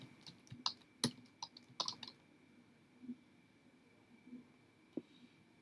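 Light, quiet clicking of computer keyboard keys in irregular bursts of typing, with short pauses between, close by and without speech.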